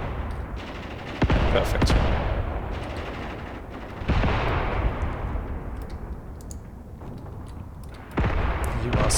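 Mortar strike and gunfire in the war game Graviteam Tactics, with a mortar barrage landing on a village: repeated heavy booming impacts and rolling rattling fire, loud and dense throughout. A voice speaks briefly.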